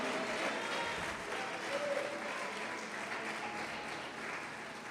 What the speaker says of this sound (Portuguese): Agora, pode aplaudir. Pode aplaudir.